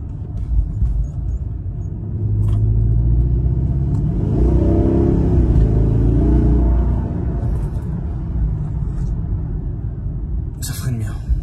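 A Rolls-Royce or Bentley luxury car accelerates hard, its engine swelling into a loud, deep roar that rises and then settles, with people talking excitedly over it.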